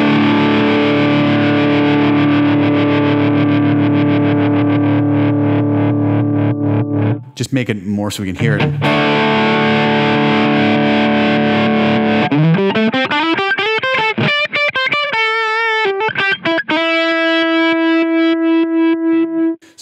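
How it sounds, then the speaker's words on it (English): An electric guitar run through a Line 6 Helix with an optical tremolo placed before the distortion plays sustained distorted chords and a rising slide, loud and close. A voice speaks briefly partway through. "Let's go with like an optical trem."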